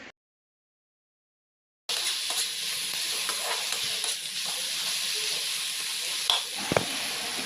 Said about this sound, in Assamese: বন্ধাকবিখিনি অলপমান ফ্ৰাই কৰি ল'ম বেছি ফ্ৰাই নকৰোঁ অকণমান ফ্ৰাই কৰি ল'ম